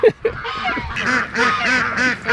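Ducks on a farm that also keeps goats give a loud, close burst of nasal, honking quacks in quick succession, several calls overlapping for a couple of seconds.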